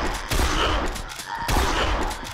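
Gunfire from a weapon in the video game Zompiercer, a dense burst of rapid shots that runs through the whole moment, loud and close with no voices over it.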